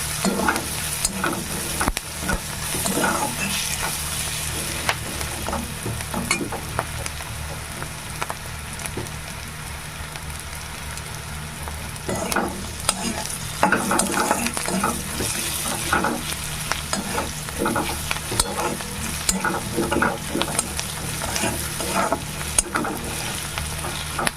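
Red amaranth greens, lightly salted, fry in a pan with a steady close sizzle and repeated scraping stirs of a spatula, continuous and even with no one speaking.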